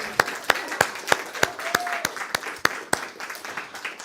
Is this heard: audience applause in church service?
yes